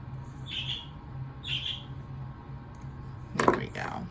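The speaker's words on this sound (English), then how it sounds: "You can probably maybe hear my bird in the background." A pet bird calls indoors in the background, with two short, faint chirps about a second apart, then a sharper, louder burst near the end.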